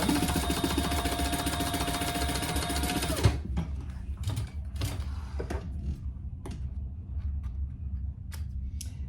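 A sewing machine stitches along the bottom of a waterproof canvas sling bag in a steady, fast mechanical whir for about three seconds, then stops, leaving scattered clicks and soft handling noises of the fabric.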